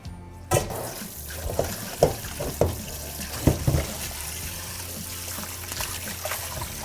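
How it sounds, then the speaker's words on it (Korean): Frozen webfoot octopus rinsed under a running cold tap in a kitchen sink, with a steady trickle of water and several sharp splashing bursts as the pieces are handled, close and alone. "찬물에 먼저 몇 번 헹궈서 오겠습니다."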